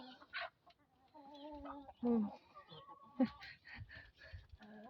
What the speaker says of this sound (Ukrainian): наш петух гарний, дуже, дуже гарний петушок